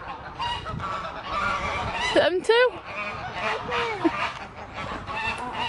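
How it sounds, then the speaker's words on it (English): Geese honk loudly and squabble by the water, harsh overlapping calls rising in a burst midway, with people talking over them outdoors. "These ducks are having fights here."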